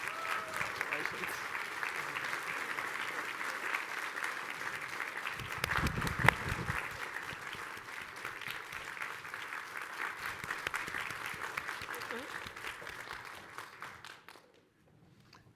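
Sustained applause with scattered cheers from an audience at a medical school distinguished alumna award and portrait presentation, steady and dense for about fourteen seconds before stopping abruptly, with a louder burst midway.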